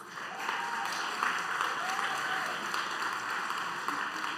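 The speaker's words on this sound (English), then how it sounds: "So please give her a round of applause." At a food summit session, an audience applauds Karen Washington of Rise & Root Farm with a moderate, even patter of clapping that stays fairly distant and steady, with faint voices underneath.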